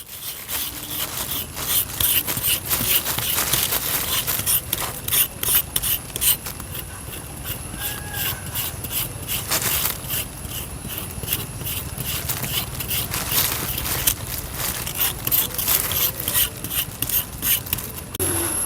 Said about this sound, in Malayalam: ഇവിടെ കാട്ടുചേടെ തോല് ക്ലീൻ ചെയ്യട്ടെ